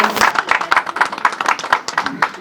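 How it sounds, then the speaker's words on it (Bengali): An audience claps to welcome Tapas Roy at a press conference, a dense run of steady, close handclaps lasting throughout at a brisk rhythm, fairly loud, with a faint murmur of voices underneath. "সবাইকে বলবো জোরে হাততালি দিয়ে তাপসটাকে একবার স্বাগত জানানোর জন্য"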